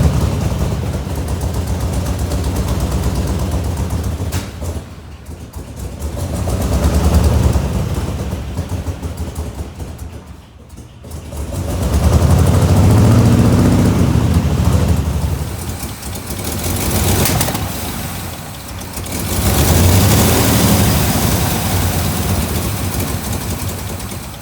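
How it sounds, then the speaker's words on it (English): A 1967 IH Loadstar 1600 truck engine idling after tuning, a loud, steady low rumble with rough surging swells and dips that run throughout. "Kenny's mechanic buddy is just working on tuning her up a little bit to get her to idle."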